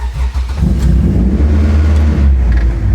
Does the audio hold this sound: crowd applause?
no